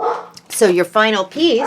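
Dogs bark nearby in a home crafting space, with several short yelping barks overlapping a person who keeps talking.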